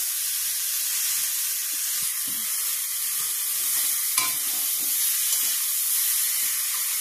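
Spicy meat with potatoes sizzles steadily in a pan while being stirred, a constant close frying hiss with occasional soft scrapes.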